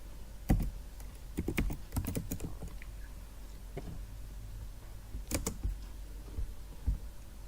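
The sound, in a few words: typing on computer keyboard, pressing enter in Excel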